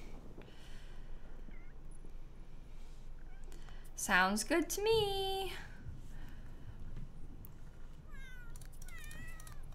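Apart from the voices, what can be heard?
cat meowing in The Sims video game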